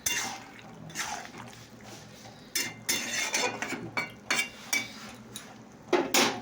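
A spoon stirs seasoned vegetables with salt and turmeric in a cooking pot, giving a series of scraping, clattering strokes with wet, sloppy texture. The strokes are loud, close and irregular, with quieter gaps between them.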